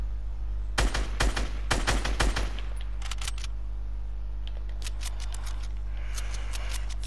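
Rapid bursts of automatic gunfire in the Fortnite Battle Royale video game, several clustered volleys early on, then lighter scattered shots over a steady game background hum.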